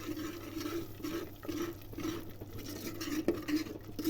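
Spices with chili powder and garam masala being stirred and sautéed in a pan for a cowpea and potato curry, a faint steady sizzle with soft scraping and occasional clinks.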